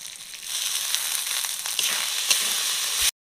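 Spice paste with a little water fries in a pan, a dense continuous sizzle and crackle close up, which cuts off abruptly just before the end.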